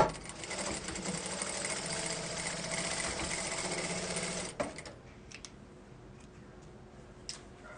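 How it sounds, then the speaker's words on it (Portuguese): A sewing machine stitches a hem on fabric for a thermal casserole carrier, running steadily and close for about four and a half seconds, then stopping, leaving a quiet room with a few faint clicks. "Aqui desse outro lado eu vou fazer uma bainha também e passar uma costurinha."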